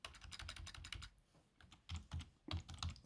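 Quick bursts of typing on a computer keyboard, close and soft, with a short pause in the middle before the rapid key clicks resume.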